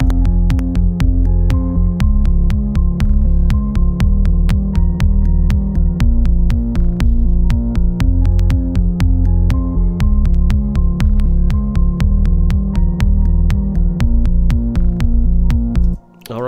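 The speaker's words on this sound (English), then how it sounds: "This is a Dreamy piano" Dreamy piano synth patch driving a minimal techno loop, steady repeating chords over a pulsing beat with sharp clicks, loud and continuous with no voices.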